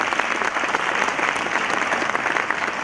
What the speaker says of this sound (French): Tout le monde de les applaudir tous les deux.